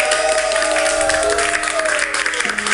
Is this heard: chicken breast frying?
no